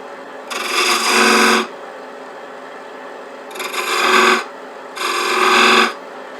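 A skew chisel cuts fine detail on each side of a bead on a spindle for a rook chess piece box turning on a wood lathe. Three separate close, harsh scraping bursts are heard, with quiet gaps between them.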